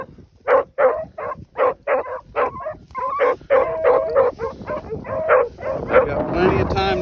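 A hound puppy barks in a steady string of sharp, rhythmic yelps and bays while tracking a rabbit outdoors, loud and fairly close, growing busier and more continuous toward the end.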